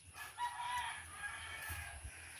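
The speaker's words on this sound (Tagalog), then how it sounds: "Yung mga manok ko naglalakad-lakad na." Free-roaming chickens walking about outdoors make a faint, distant crow-like call, with soft clucks and rustles underneath and no voices.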